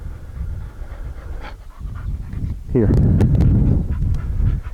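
A dog pants loudly and rapidly up close, a quick rhythmic huffing that grows stronger partway through, with a person speaking briefly nearby.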